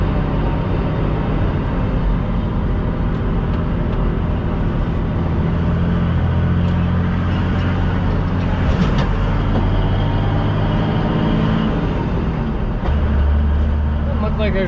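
A heavy truck engine drones steadily from inside the moving cab while the clutch is ridden, a low continuous rumble with faint road noise throughout.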